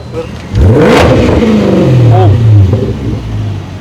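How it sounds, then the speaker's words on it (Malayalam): Supercharged Jaguar XF R engine revved on the throttle: a loud, close rise in pitch that holds briefly, then falls away to idle, with someone speaking over it. "ഞാനൊന്ന് ത്രോട്ടിൽ കൊടുക്കട്ടെ."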